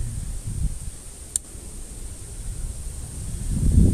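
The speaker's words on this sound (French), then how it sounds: "Il y a du vent, hein." Outdoor wind buffets the microphone with low, uneven rumbling gusts that swell louder toward the end, plus one brief sharp click partway through; no one speaks.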